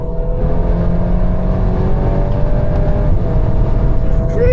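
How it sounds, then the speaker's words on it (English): A Volkswagen Golf 8 (GTI Clubsport or R) pulls hard at full throttle out of a corner on a race track, a loud, steady engine note with rising harmonics from start to finish, no talk over it. "look at the exit, then go full throttle,"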